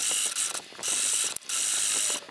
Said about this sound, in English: I'm just gonna sew all the way down